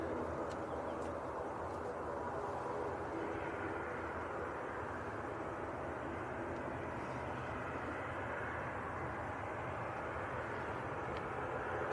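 Steady, distant roar of a passenger aircraft at Manchester Airport on a short positioning flight to Gatwick, a continuous broadband engine rumble that stays even throughout, faint and unaccompanied by voices.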